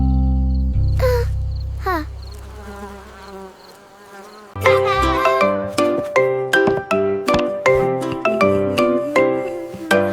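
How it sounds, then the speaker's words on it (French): A bee buzzes softly in a French children's nursery rhyme, a low steady drone for several seconds before bright, plucked musical notes take over. "L'abeille bourdonnait doucement en chantant."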